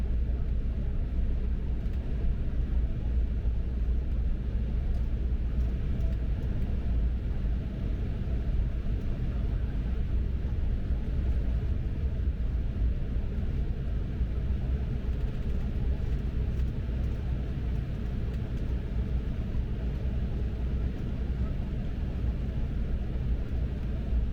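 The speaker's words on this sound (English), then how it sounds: "we're just going to taxi along the runway and connect into the air bridge" An American Airlines Embraer 175 taxis on the runway toward the air bridge, a steady, loud low rumble of engines heard from inside the cabin, constant throughout with no talk.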